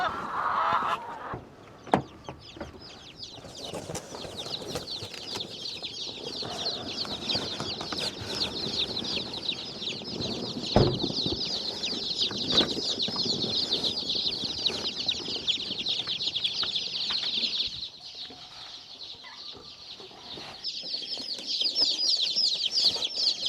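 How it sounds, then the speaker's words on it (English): Young egg-laying chickens let out of a coop on a farm make a dense, continuous chorus of high peeping and chirping, with rustling, flapping and occasional thumps nearby. "Let's get the younger chicks out so they can start their life on the farm."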